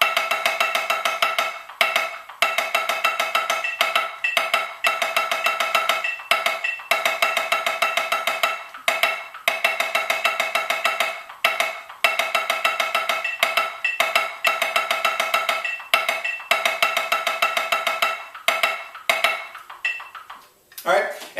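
Snare drum played in steady sixteenth-note check patterns and groupings with alternating sticking, a dense bright rapid stream of strokes broken by brief regular pauses, close and loud for about twenty seconds.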